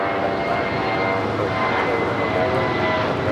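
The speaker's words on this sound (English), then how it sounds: "This is United Airlines 2279 taking off to Seattle on the A320" A United Airlines Airbus A320 jet takes off at LAX bound for Seattle, a loud, steady broadband engine roar holding level and close throughout with no voices.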